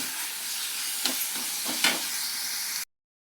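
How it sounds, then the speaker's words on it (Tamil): Onions and fennel seeds sautéing with a little salt in a pan, giving a steady, close frying hiss broken by a few brief stirring scrapes, heard alone until it cuts off abruptly. "இது நல்லா வதங்குது, நல்லா வதங்கட்டும்"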